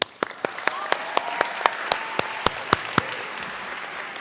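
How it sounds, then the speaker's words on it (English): Audience applause for Ruby at a Latino graduation celebration, a broad crowd of clapping with a few louder individual claps standing out near the front, then fading toward the end. "Another applause for Ruby."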